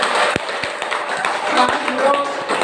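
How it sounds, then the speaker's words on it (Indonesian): A class joins in clapping together during a lesson, a dense patter of many hands with a few sharper claps standing out, with voices talking over it throughout. "Baik, tepuk tangan dulu."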